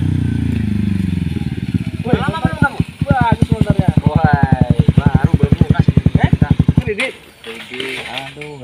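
A motorcycle rides up and runs nearby, its engine pulsing with a rapid, even beat for several seconds under people talking.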